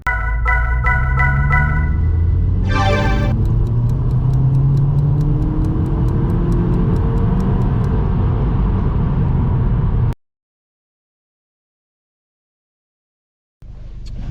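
A 2002 VW Golf IV GTI 25th Anniversary with a 216 hp engine drives along an open road, a loud, steady engine drone with rhythmic clicking early on, cutting to silence near the end before the sound briefly returns.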